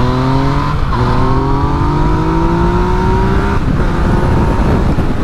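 A Yamaha MT-09 motorcycle accelerating hard on an expressway, its engine climbing in pitch through gear changes with a brief drop between shifts, loud and close over constant wind roar.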